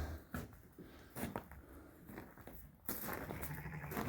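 Newborn white lambs bleat on a farm in soft, wavering calls mixed with rustling and handling noise, heard close but faint.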